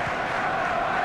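Steady stadium crowd roar from a football video game simulation of a Champions League match between Borussia Dortmund and Arsenal, a continuous broad wash of many voices at even loudness with no distinct peaks.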